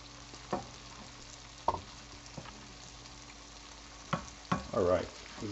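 Food sizzles steadily in a pan with a light coat of oil while cooking for a curry, a soft continuous fry broken by a few sharp clinks and scrapes of stirring near the end.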